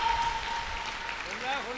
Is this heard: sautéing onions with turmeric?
no